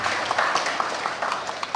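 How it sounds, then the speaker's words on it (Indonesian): Audience applause at an Islamic gathering in a mosque or Quran school setting, a brief burst of scattered clapping heard with room echo, rhythmic individual claps standing out from the crowd. "Tepuk tangan untuk Al-Madinah ya."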